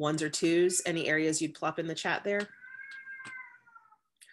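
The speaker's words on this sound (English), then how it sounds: "That's my cat. When she's hungry, she's super loud." A person talks, then a cat lets out a long, drawn-out meow at a moderate distance, followed by a brief chirp.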